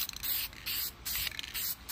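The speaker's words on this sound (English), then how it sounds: "I have some spray lacquer here, and I'm going to" Rattle-can spray lacquer hissing from an aerosol can in steady bursts with brief pauses between them, close and continuous, applied as a first coat on a handmade air banjo.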